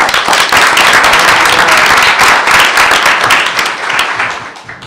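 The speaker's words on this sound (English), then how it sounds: "Let's give him a round of applause." Audience at a board meeting gives a board member a round of loud, dense applause that holds steady, then begins to taper off near the end.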